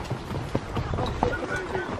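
A ridden horse's hooves clip-clopping in an uneven, quick rhythm on a rural track, close by, mixed with outdoor noise and faint voices.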